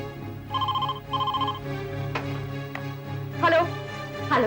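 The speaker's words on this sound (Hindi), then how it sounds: "फोन तो उठाओ" A phone rings indoors in two clear repeated electronic bursts, followed by a couple of sharp knocks and brief voices toward the end.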